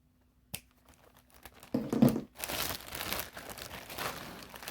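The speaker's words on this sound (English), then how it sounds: "I'll just cut this knot off because I know I'm not going to be able to get it" Scissors snip through the knotted tie on a mail-order mystery subscription box, a crisp cut followed by plastic crinkling and rustling packaging close by with no voices.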